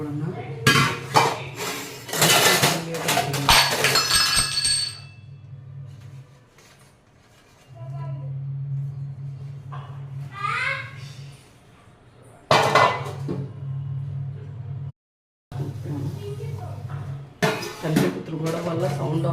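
Pots, pans and utensils clatter and clink in a home kitchen on a Sunday morning, with loud bursts of metallic knocking early on and again later, and a person talking in between.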